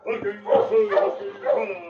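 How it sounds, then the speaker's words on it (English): A dog barks a few times in quick succession, moderately close, with a slightly whiny, yelping quality. "he heard the sound of barking outside"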